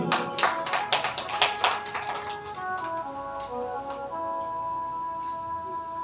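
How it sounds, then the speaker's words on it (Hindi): Crowd of devotees clapping at a Shiv Purana katha, a burst of dense applause that thins out, followed by sustained musical tones from the stage. "आपके लिए भी जोरदार ताली।"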